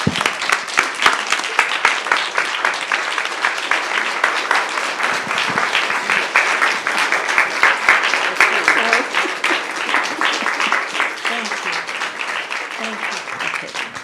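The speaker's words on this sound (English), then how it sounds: "ase join me in giving Chair Stephanie Carter a well-deserved round of applause." An audience at a community police oversight commission symposium gives its chair a sustained, even round of applause, loud and continuous from start to finish with no talk over it.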